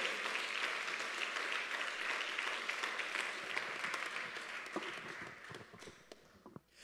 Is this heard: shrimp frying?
no